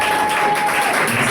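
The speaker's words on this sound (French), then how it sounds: "on peut l'applaudir encore" A church congregation claps for Maman Inès during a testimony service, a brief, steady wash of clapping with no pauses.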